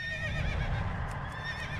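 A horse in World of Warcraft lets out a loud neigh, a shaky whinnying cry lasting most of the moment with a low rumble beneath.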